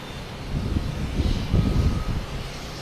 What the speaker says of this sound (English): Delta coming in from Detroit, an A321.